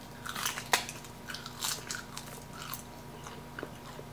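Close, crisp crunching and biting of thin, brittle, lightly salted Korean roasted seaweed snacks, a few sharp bites followed by softer chewing, no talking.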